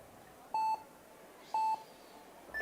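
Two loud, steady electronic start tones at an IFSC speed climbing World Cup final in Villars, each about a quarter second long and a second apart, followed by a third tone beginning at the end.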